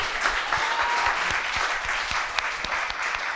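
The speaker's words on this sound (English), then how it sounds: "let's give them a round of applause first" A live podcast audience gives a steady round of applause, dense overlapping clapping at even loudness throughout, close and full, with a faint voice briefly underneath.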